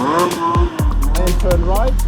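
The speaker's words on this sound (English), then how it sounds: "Now they're even taking it up a notch with a deliberate 360-degree spin before stabilizing the car again." Porsche Carrera Cup race car spinning through a deliberate 360-degree drift at Hockenheimring, engine pitch rising and falling with brief tire squeal, heard close under continuous commentary-style talking.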